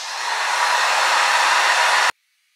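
A hair dryer runs steadily and loud close by while drying hair at home, its broad airy roar holding for about two seconds before it cuts off abruptly into near silence.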